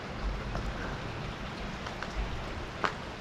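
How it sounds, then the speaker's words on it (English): Steady rain falling during an outdoor bike ride, a soft continuous patter with a few louder drops, close and fairly faint, with no voices. "By the way, I'm getting rained on."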